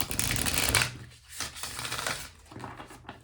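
A deck of tarot cards is shuffled by hand in a steady riffling rustle, dense and close at first, then thinning into softer, broken bursts of card noise with no talk.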